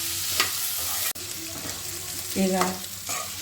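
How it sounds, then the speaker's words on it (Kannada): Chayote stir-fried in a pan gives a steady sizzle with scraping stirs, a sharp knock near the middle, and a short spoken word over the cooking. "ಫ್ರೈ ಮಾಡ್ಕೊತಾ ಇದ್ದೀನಿ"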